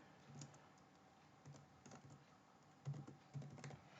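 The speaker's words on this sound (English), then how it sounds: "I know a couple of keys on this keyboard I have to press multiple times" Typing on a computer keyboard while entering a password during an Ubuntu 20.04 installation. Sparse, faint key taps come in small irregular clusters, with a few louder presses near the end.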